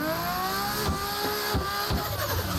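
A car revs and drifts in second gear, its engine note rising and falling with several throttle blips, while faint tire noise runs under the engine.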